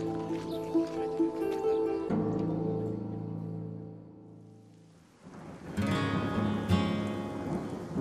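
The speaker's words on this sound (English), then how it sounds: "There's definitely a storm coming." Rolling thunder from an approaching storm on the Camino de Santiago pilgrimage route in Spain rumbles steadily, fades briefly, then swells again into a louder, crackling peal.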